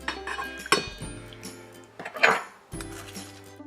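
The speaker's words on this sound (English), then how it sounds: "So this bowl has my honey and sugar, and I'm just going to add my boba." Cooked boba pearls go into a bowl of honey and sugar with clinks and scrapes of a spoon against the dish, several close knocks and rattles in a quiet kitchen.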